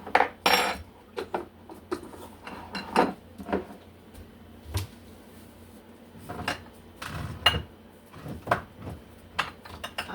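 Metal cutlery clinks and rattles up close as a new spoon is taken for adding garlic while cooking ground chicken, in irregular bursts of chinks and knocks with short pauses between.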